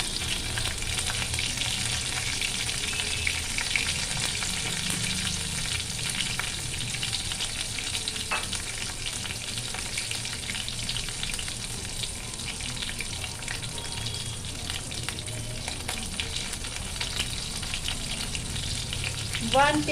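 Mixed vegetables with tomato, green and red chili and grated ginger fry in a pan, giving a steady, dense sizzle with occasional soft scraping and stirring clatter.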